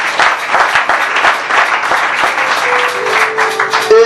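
A church congregation applauds and cheers, a dense, loud wash of clapping and voices that carries on steadily, with a sustained musical tone rising near the end.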